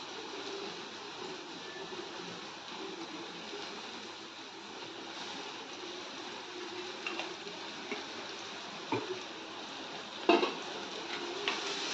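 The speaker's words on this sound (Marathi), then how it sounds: "तेलामध्ये छान परतून घ्यायचे आपल्याला हे" Ginger, garlic and green chili paste frying in oil for a dhaba-style shev bhaji gives a steady, soft sizzle, with a few light stirring knocks toward the end.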